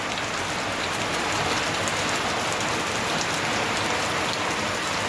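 Steady, dense rainfall hisses continuously over a village, an unbroken wash of drops on surfaces with no voices.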